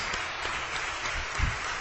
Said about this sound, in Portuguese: Aplauda forte o nome de Jesus